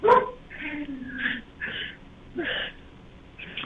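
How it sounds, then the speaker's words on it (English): Several dogs at a kennel bark, yip and whimper in short bursts of rising and falling loudness, moderately close, with no talk over them. "Getting closer, they're getting louder, the dogs."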